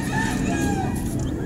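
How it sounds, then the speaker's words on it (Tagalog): Backyard chickens cluck and a rooster crows over a steady outdoor background hum, the birds fairly close and continuous throughout. "Yung aking mga alagang manok nag-iingay na."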